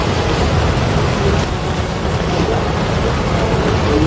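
Heavy rain pours outdoors on a hill at Bukit Moko in West Java, a loud, continuous roar with low rumbling thunder beneath it and no voices.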